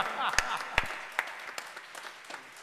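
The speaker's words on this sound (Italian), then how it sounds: "Applauso, ragazzi." Scattered, fairly close claps from a theatre audience at a song and poetry show pop out one by one over a background of voices.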